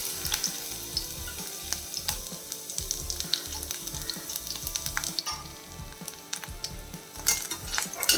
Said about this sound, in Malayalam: എണ്ണ ചൂടായിട്ടുണ്ട് ഇനിയിപ്പോൾ നമുക്കിതിൽ ഒരു ടേബിൾ സ്പൂൺ വെളുത്തുള്ളി അരി ഇട്ട് കൊടുക്കാം